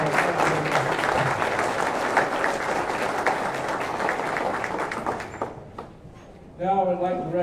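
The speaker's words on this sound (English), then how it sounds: "A big round of applause." Audience at a candidate forum in a high school applauds steadily for several seconds, the dense clapping fading out before a voice begins speaking at the end.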